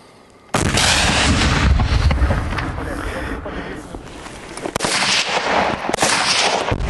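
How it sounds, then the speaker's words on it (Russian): Gunfire from a Ukrainian territorial defense military training exercise in the Kharkiv region: a loud, close burst erupts abruptly after a short quiet start and continues as sustained rough shooting, with a second surge near the end. "Только ты говоришь выстрел, а потом только стреляешь."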